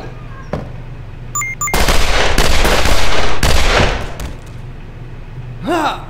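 Gunfire in the video game The Ship: a dense, loud burst of shots runs for about two and a half seconds after a few isolated sharp cracks, then dies back to quiet ambience with a brief rising tone at the end.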